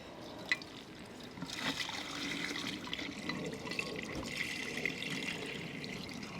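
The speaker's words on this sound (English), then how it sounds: "our next step is filling up the vessel" Water pours steadily into a fountain vessel built from thrift store items, a continuous splashing trickle at moderate volume with no talking over it.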